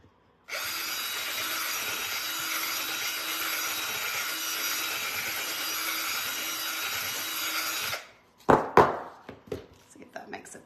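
A power drill runs into wood for a DIY decor project, one continuous steady whirring pass lasting several seconds, loud and close. It stops abruptly, followed by a few knocks and handling clatter.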